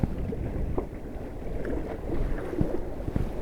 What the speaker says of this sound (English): this wind is just insane today